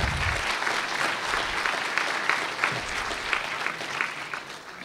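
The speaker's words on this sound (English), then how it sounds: "So if you could give them a round of applause," Sustained audience applause at a city council Martin Luther King Jr. celebration, an even crowd clapping that holds steady and fades slightly toward the end, with no speech over it.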